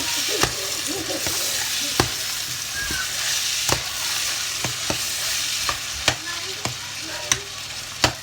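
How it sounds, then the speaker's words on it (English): Steady sizzling of green beans frying in a pan, with a constant hiss broken by regular sharp clinks and scrapes of stirring. "I will add the green beans inside. I will allow it to be frying."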